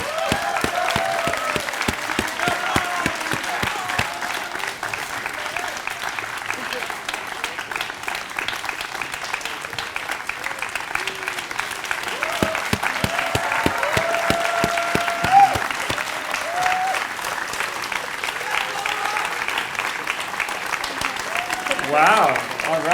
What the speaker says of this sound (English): come up on stage just for 1 second and experience a round of applause